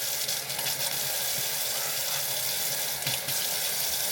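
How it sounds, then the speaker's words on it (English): Tap water runs steadily into a kitchen sink while pasta press parts are rinsed, a continuous broadband rush that stays close and even throughout. "So let's go over to the sink and clean."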